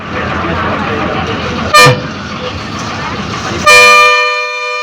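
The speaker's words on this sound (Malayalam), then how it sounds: "എൻ്റെ അമ്മോ, ഈ ഹോണടി മാത്രമാണ് വലിയ വിഷയം." Two sharp vehicle horn toots, the second longer, cut through steady road noise inside a bus travelling from Rameswaram toward Dhanushkodi along the coast.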